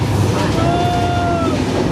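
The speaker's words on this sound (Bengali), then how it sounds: "এই পাশটায় ট্রেন যাচ্ছে" A train rolls past on tracks above the Goyala river, a steady broadband rumble with faint wheel squeal running throughout at moderate distance.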